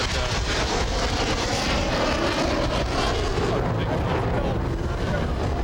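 Loud, steady roar of a USAF Thunderbirds F-16 jet at the Fort Lauderdale air show, broadband engine noise filling the whole stretch without a break.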